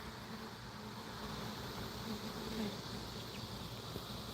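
Honey bee swarm buzzing outdoors around a ladder, a faint, steady, dense hum with no voices.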